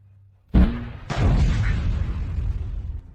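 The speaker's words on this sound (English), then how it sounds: "Fire the cannon." A mortar cannon gives a sudden loud boom, followed by a second heavy blast that rolls into a long, rumbling decay lasting several seconds, with no speech over it.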